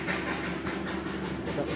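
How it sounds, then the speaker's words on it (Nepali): The old 2022 Darjeeling toy train runs past as a continuous, fairly loud rumble and rattle of wheels on narrow-gauge track, heard up close without speech. "यो कति दिन बाद यो टोय ट्रेन देख्दैछु मैले"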